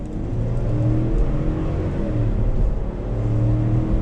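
Engine of a 2021 Chevrolet Suburban Z71 full-size SUV with a 10-speed automatic, pulling steadily under acceleration, a loud continuous low drone heard from inside the cabin with no talk.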